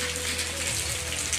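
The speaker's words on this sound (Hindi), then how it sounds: "फिलहाल तो बारिश काफ़ी ज़्यादा तेज़ लगी है, यहाँ पर रुके हैं।" Heavy rain pours down near the road to the Gopinath temple in Gopeshwar, a loud, steady, dense hiss with close drumming on a surface and no talking.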